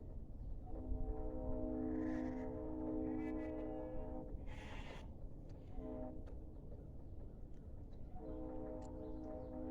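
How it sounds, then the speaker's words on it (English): A train horn sounds in long, steady harmonic blasts, repeated several times against a low rumble of rolling rail traffic, fairly distant. "Oh, hear the train?"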